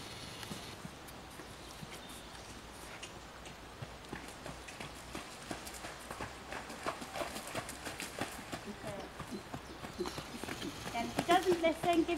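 A pony cantering during a riding lesson, with steady rhythmic hoof clip-clops growing louder toward the end, heard alongside outdoor background noise and an instructor's voice.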